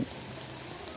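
Steady rain hisses evenly, a soft continuous patter with no voices.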